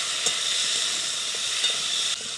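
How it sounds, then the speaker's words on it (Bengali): Potatoes sautéing in a pan with ginger paste and chili paste, giving a steady, close sizzle with faint stirring scrapes throughout. "আদা বাটা লঙ্কা বাটা দিয়ে আমি এবার কষে নিচ্ছি আলুটা"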